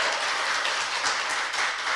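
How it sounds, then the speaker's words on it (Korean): Studio audience applause during a Korean talk show, a steady dense wash of clapping that holds at an even level for the whole two seconds with no voices over it. "박수."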